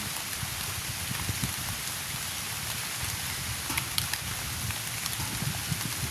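Steady rain pours down in a sudden shower, a dense even hiss with scattered drops tapping on surfaces, constant and fairly close with no speech.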